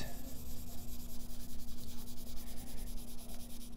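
Cloth rubbed steadily back and forth over a wooden drawer piece, working in a light coat of stain; a close, continuous soft scrubbing with even rhythmic strokes and a low steady hum underneath.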